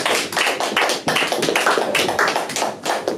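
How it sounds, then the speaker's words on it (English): A crowd claps steadily, many hands together in a dense, lively round of applause, loud and close with no talking. "We're going to give him a big round of applause."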